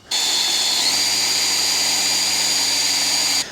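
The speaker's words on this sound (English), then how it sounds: "I've gone for a 4mm drill" A power drill with a 4mm bit whirs steadily at high speed for a few seconds, loud and close, its pitch rising slightly as it spins up before stopping.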